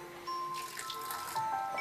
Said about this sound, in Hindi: अब हम इसमें थोड़ा सा पानी डाल देंगे।